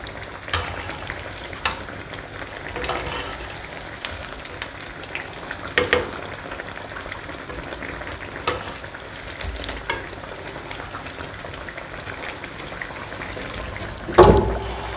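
Potato kachori frying in hot oil, a steady close sizzle with occasional clinks and stirring taps from a utensil, ending on a sharper clatter.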